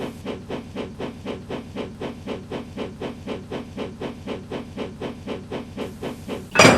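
Steam locomotive in a railway video game puffing into motion, a regular series of rhythmic chuffs with hissing steam at a steady pace, ending in a sharp loud burst of hiss.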